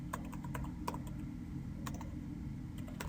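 Keys clatter on a computer keyboard in short bursts of quick taps with brief pauses, quiet and close, with no voices.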